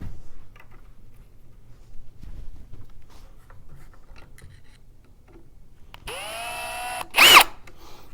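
A power drill drives screws into a wooden rocker joint during furniture assembly, spinning up briefly near the end of an otherwise quiet stretch with light handling noises, then stopping with a short burst.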